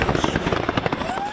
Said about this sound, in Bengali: চলে আতশবাজি আর কনফেট্টি ছুড়ে উল্লাস।